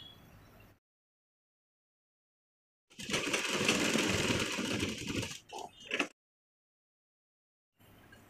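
A sewing machine stitches a full sleeve, running in one steady whirring burst of about three seconds that breaks into a few short stuttering runs, with silence before and after.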